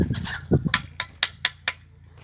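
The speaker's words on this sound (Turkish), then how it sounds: "Horoz bu." A rooster's clucking calls, a low throaty note followed by a run of five evenly spaced sharp clucks, close and loud.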